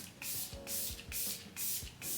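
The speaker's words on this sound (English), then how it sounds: "I'm gonna spray my face one last time with the Rare Beauty setting spray." Rare Beauty setting spray mists onto a face in five quick, soft hissing pumps at an even rhythm, close and fairly quiet with no talking.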